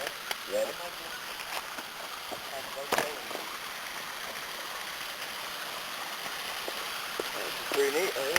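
A stream runs near waterfalls on the Lafferty Spring Branch, a steady broad rush of flowing water with a few brief knocks and splashes up close.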